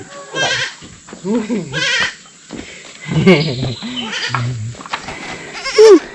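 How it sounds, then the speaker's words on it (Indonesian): Several newborn kid goats bleat repeatedly at close range, their high quavering cries overlapping with people talking nearby. "Ini ada berapa ekor anak kambing yang baru dilahirin teman-teman."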